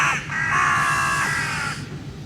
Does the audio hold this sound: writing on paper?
no